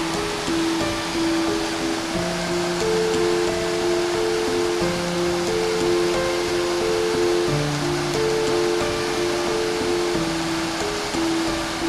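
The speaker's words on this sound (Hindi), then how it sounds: "बहुत ही तेज़ी से पानी ऊपर की तरफ से नीचे आता है" Usri waterfall water rushes down over rocks in a steady, continuous roar, with a tonal music layer playing over it throughout.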